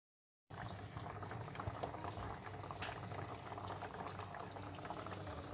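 Rice pilaf simmering in a pot on a low stovetop flame, a steady close bubbling boil with soft liquid patter running evenly throughout after a brief silent start.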